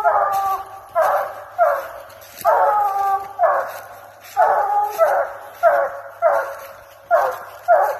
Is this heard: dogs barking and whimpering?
yes